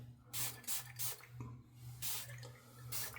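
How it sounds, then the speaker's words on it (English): Several short hissing bursts of a spray bottle in an uneven rhythm, close by, with a quiet steady hum underneath. "I'm spraying it all over."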